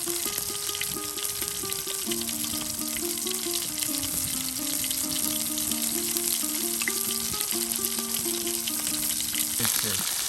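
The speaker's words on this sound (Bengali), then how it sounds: "প্রত্যেকটি মাছ দেখুন সুন্দর করে কিন্তু তেলের সাথে এই যে ভেজে নেওয়া হচ্ছে।" Mixed fish frying in oil in a village kitchen, a loud unbroken sizzle throughout, with a steady melodic tone running in the background.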